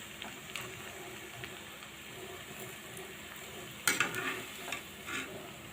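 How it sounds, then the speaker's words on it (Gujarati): Potato vadas frying in hot oil, a steady low sizzle running throughout with occasional sharper crackles and a brief louder burst of spattering near the end, close and moderately quiet, with no talking. "તો આપણે હવે બટેટાવાળાને તળી લેશું."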